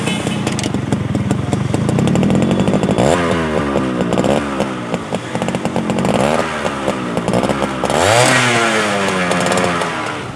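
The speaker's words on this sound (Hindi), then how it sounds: "वाह, टिपिकल 2 स्ट्रोक साउंड, मज़ा आया जनाब इसका।" A Yamaha 100cc two-stroke motorcycle is kick-started and revved: a loud, buzzy, crackling engine note with rising and falling throttle blips, close up and nearly free of talk.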